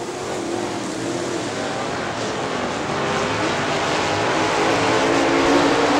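Late model stock cars race at Crystal Motor Speedway, a dense, sustained roar of several engines at full throttle that swells gradually as the pack comes nearer.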